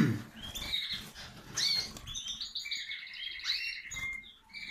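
Small birds in a home aviary with a nesting pair and four young, giving quick high chirps and tweets in scattered bursts, fairly close, with light rustling and no talk.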